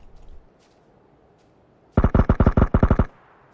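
Automatic rifle fire aimed upward in PUBG, a sudden loud close burst of about ten rapid shots in quick succession after a quiet stretch, then silence.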